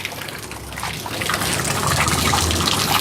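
Water pours from two pumps in an evaporative air cooler, a close, continuous trickle and gush that grows slightly fuller partway through.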